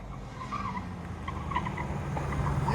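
A Ram TRX pickup truck comes down a hill off-road, its engine rumble building steadily with tire noise and skidding dirt, growing louder and closer over a few seconds.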